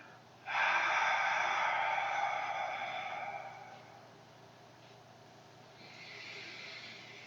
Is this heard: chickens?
no